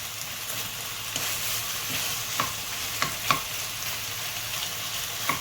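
Pork belly renders fat in a pan over low heat, a steady crackling sizzle overlaid with repeated scrapes and light knocks of a utensil stirring the pieces.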